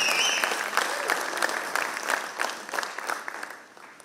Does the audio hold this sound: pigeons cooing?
no